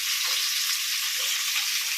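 Large jilebi fish sizzle steadily in hot oil, giving a continuous close frying hiss with faint bubbling and no talk.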